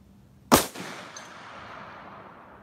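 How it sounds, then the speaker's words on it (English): A single loud rifle shot from a Ruger chambered in 450 Bushmaster, fired downrange at an outdoor range: a sharp close crack followed by a brief echo and a long fading rumble. "Shoot it downrange a bit."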